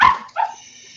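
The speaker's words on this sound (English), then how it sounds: "they hear a dog outside" A dog barking outside, one sharp close bark followed by a shorter yip, played as a sound effect during a tabletop roleplaying session.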